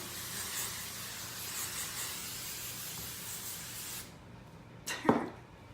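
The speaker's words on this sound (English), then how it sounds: "that's why I like to do such short bursts of sprays when I'm first hairspraying my hair" Hairspray hisses steadily from a can onto hair for several seconds, close and continuous, before stopping, followed by a brief rattle or click.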